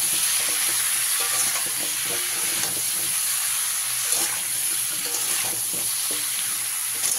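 Raw pumpkin stirred with salt and turmeric in a hot pan, giving a continuous sizzle with scraping stirs repeating throughout, close and steady.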